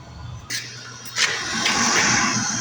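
Heater blower fan in an MG car switched on, a click followed by a steady, fairly loud whooshing whir of air that builds and holds.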